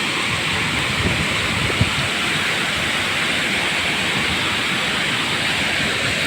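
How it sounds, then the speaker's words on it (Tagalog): Water pours steadily at a summer waterfall beside a beach, a dense unbroken rush that stays loud and even throughout with no talk over it. "Habang naririnig yung tugtog ng ano, yung agos ng tubig."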